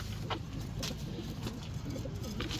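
A pigeon coos softly and repeatedly while being held and handled, against a steady low background rumble with occasional faint chirps.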